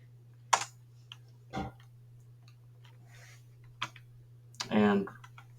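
A few scattered keystrokes tapped on a computer keyboard while entering a Linux username, sparse sharp clicks over a steady low hum, with a brief bit of speech near the end.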